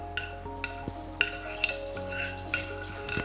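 A spoon scrapes and clinks against a steel vessel while tempering is mixed into sesame chutney, giving irregular sharp metallic taps over a quiet background, with no talking.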